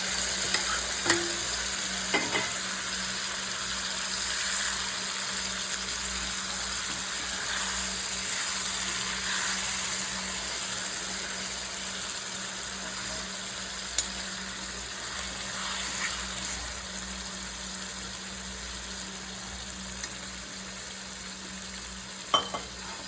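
River fish sizzle steadily in hot oil and are stirred gently, a continuous close frying hiss with a few soft clicks of the utensil and no voices.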